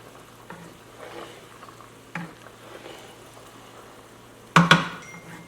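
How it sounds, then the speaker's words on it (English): A wooden spoon stirs homemade human-grade dog food cooking on high in a pan, giving soft scrapes and a faint sizzle, then a couple of sharper knocks against the pan near the end. "get a little wooden spoon here, or any spoon, and I keep it on high, and I just keep mixing it"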